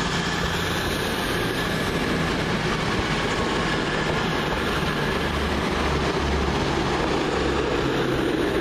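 A five-car Class 221 Voyager, unit 221105, runs through Wolverhampton station with a steady loud rumbling roar that holds for the whole stretch, close by, with low rhythmic clatter from the wheels and no voices.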